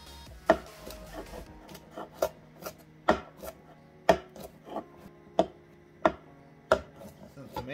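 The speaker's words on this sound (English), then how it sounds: "Same with the mushrooms, ¿eh? Lo mismo con los champiñones. Just chop them a little bit," Knife chopping mushrooms on a wooden board, about a dozen sharp, fairly even strokes spaced roughly half a second apart, close and distinct with no talking.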